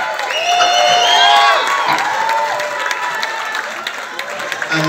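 Audience at a performing arts festival applauds and cheers, with whoops and shouts over steady clapping. Loud and sustained, easing off slightly toward the end.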